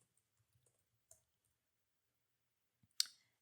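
Two sharp computer mouse clicks, one early and one near the end, isolated against near silence with faint small ticks between them.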